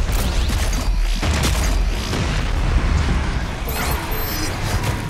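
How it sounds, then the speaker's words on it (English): A grenade fired in Doom Eternal brings a close, booming blast over a dense roar of game noise, with mechanical clanks and pops scattered through the rumble. "Fire a grenade!"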